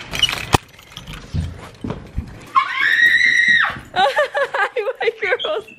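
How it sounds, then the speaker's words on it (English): Excited high-pitched screaming from the girls greeting their owners as they come home: a long wailing cry, then a rapid run of warbling calls, with jangling keys and rustling before it. "seeing the girls scream because they're so excited to see us"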